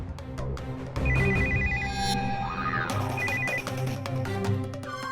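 A home phone rings in a Hindi TV drama scene: short bursts of electronic trilling, two rings a couple of seconds apart, set against background music with a rising and falling sweep.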